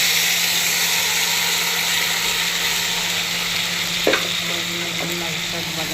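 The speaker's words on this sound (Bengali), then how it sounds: "বাগার দিয়ে দিচ্ছি" Bottle gourd greens with potato tempered in hot oil, giving a loud, continuous frying sizzle throughout with one brief clink near the end.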